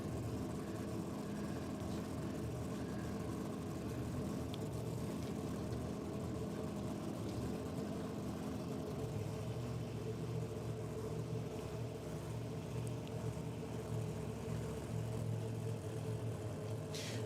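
A Mustang-powered Hemi drag racing car at Sydney Dragway rumbles as a steady, continuous low engine drone throughout, idling or staging at a moderate distance with no talk over it.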